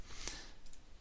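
A computer mouse clicking while someone browses a WordPress membership site, a few quick crisp clicks near the mic, two close together early on and two fainter ones later, with no talking.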